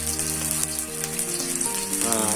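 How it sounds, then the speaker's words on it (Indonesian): Tomato and chili vegetable sauce bubbles and sizzles steadily in a pan, a continuous close frying hiss with music playing over it. "Selanjutnya biarkan dia mendidih."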